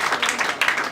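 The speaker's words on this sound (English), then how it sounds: "Can we give them a round of applause, please?" A graduation audience applauding the tailoring department graduates, a short burst of dense clapping rising and falling in two waves, fairly close and loud.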